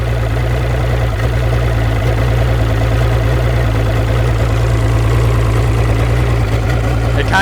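A 200 HP boat motor idles roughly with a suspected intermittent misfire, a loud, close, continuous low drone with an uneven throb, steady throughout and with no voices.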